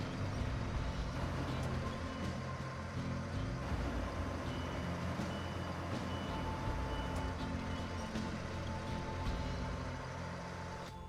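A crane lowers cargo in the SnowRunner video game, a steady mechanical engine drone and rumble with faint beeping over it, continuous and moderately loud, no speech.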